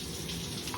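Tap water running into a sink at home, a brief steady splashing stream that stays fairly soft and close, with no talk over it.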